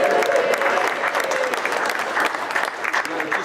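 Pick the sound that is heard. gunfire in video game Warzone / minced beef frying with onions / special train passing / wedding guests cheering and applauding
wedding guests cheering and applauding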